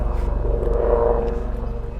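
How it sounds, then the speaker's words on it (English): A helicopter passes overhead, a steady low rotor rumble and throb swelling slightly in the middle and easing off, heard alone without talk. "I've got a helicopter coming over."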